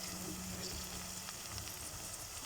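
Red, green and yellow peppers frying in a pan with onion and garlic for a homemade lasagna, giving a steady, soft, continuous sizzle and hiss throughout.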